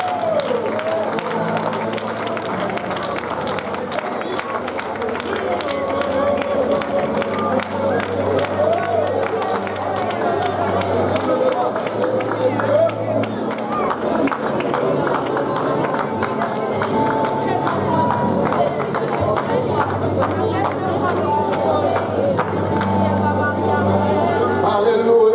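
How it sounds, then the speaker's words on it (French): Church congregation acclaiming Jesus with sustained clapping and cheering, a loud, dense crowd wash with rhythmic claps and voices throughout, music-like tones underneath. "Nous voulons acclamer le Seigneur Jésus."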